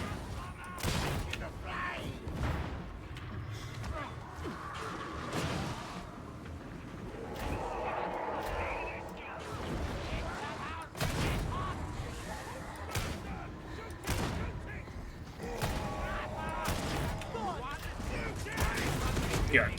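Bolt gun fire in Warhammer 40K Darktide comes in repeated sharp bursts and single cracks amid game combat noise, with someone talking over much of it.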